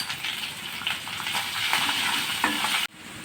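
Onion and ginger frying in a pan, a close, continuous sizzle with brief stirring, ending abruptly just before the finish.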